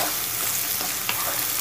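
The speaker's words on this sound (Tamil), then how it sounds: "வெங்காயம் நல்லா வதங்கட்டும்." Onions sautéing in a pan for egg kurma, a dense continuous sizzle with soft scraping stirs and one brief clack, close and steady with no talk.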